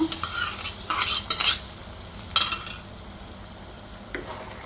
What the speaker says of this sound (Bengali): বাগারটা দিয়ে খুব ভালোভাবে নেড়ে চেড়ে নামিয়ে নিলেই হবে